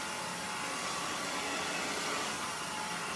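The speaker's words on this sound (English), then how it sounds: "holding the blow dryer in this fashion allows me to take very clean sections" A blow dryer drying long hair gives a steady, even whooshing roar that holds unchanged throughout, close and with no talking.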